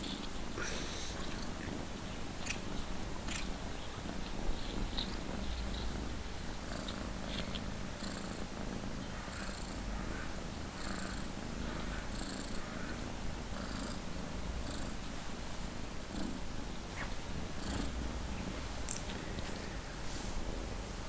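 A cat purrs steadily and continuously for the whole stretch, close and fairly quiet, during a countryside walk along a steep bank, with a faint rustle of outdoor background around it.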